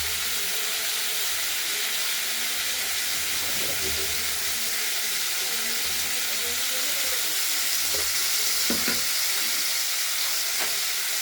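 Cauliflower frying in a pan for a cauliflower and potato curry, a dense, continuous sizzle and hiss close up, with occasional soft stirring knocks underneath and no one speaking.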